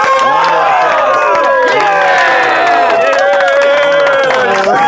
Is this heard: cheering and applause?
yes